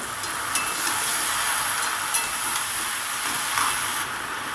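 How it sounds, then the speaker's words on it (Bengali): Cabbage stir-fries with cumin and chili powder in a pan, a continuous bright hiss of frying with a few scraping stir strokes, close and fairly loud throughout. "মশলাটা দিয়ে একটু ভালো করে নেড়ে চেড়ে ভেজে নেব"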